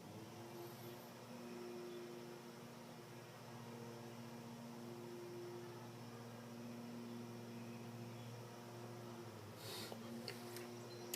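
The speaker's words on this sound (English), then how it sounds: "That's the lawnmower going." A lawnmower running outdoors in the background: a faint, steady engine drone with a constant hum that holds throughout, and a few soft clicks near the end.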